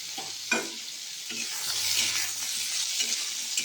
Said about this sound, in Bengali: আমি কিন্তু সর্ষে ফোড়ন আর লঙ্কা ফোড়ন দিয়ে দিলাম, আর আমড়াগুলো দিয়ে দিলাম